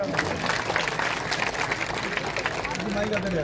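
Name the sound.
audience applause at college welcome event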